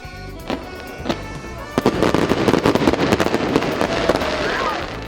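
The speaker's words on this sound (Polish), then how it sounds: "Taki wynik z pewnością zasługuje na fajerwerki." Fireworks crackle and pop in a dense, rapid barrage at a celebration, sharp bangs at first building into continuous loud crackling outdoors.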